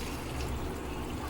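Water poured into a pot while cooking mushroom biryani in a pressure cooker, a steady close splashing fill with a continuous low trickle, heard alone.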